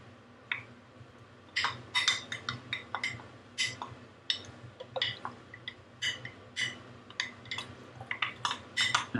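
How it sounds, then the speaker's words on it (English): A utensil scraping and clinking against a bowl while spleen is mixed into a meatball mixture, a steady irregular run of close, light clinks and soft squishes over a low background hum. "I'm gonna mix the spleen in here."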